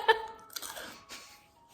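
A single crisp bite into crunchy, over-baked homemade macarons, heard close up, followed by a short burst of chewing and crumbling that fades out.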